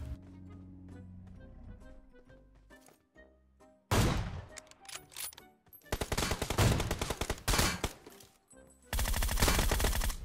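Bursts of gunfire in PUBG Mobile, loud cracking volleys and rapid automatic fire arriving in separate clusters with short quiet gaps between them, with no talking.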